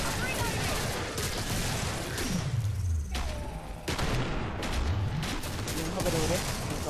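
Weapons fire in the co-op shooter Killing Floor: steady, loud, crackling bursts of shots and thuds run throughout, with a short lull near the middle and faint voices underneath.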